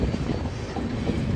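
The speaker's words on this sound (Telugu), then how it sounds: "మన ట్రైన్ ఏమో కంటోన్మెంట్ క్రాస్ అయిపోయింది." Prasanthi Express rolling past Bengaluru Cantonment on a curve, heard from the last coach as a steady, loud broadband rumble of wheels and carriage noise with no voices.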